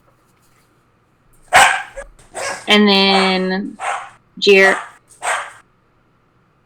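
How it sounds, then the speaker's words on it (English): A dog barks several times during a video call, a few sharp barks and a longer, tonal yelp, mixed in with brief bits of talk. "that is I think dog right there"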